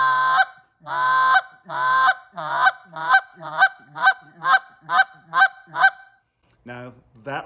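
An ALPHA goose call is blown in a calling lesson, giving a series of about a dozen loud honks. They start long and get shorter and faster, then after a pause a final short cluck sounds, with no talk.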